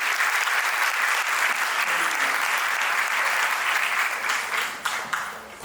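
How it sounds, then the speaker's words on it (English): Audience at a coaching summit in Egypt breaks into sustained, dense applause filling the room, tapering slightly near the end. "so to both of us, a round of applause,"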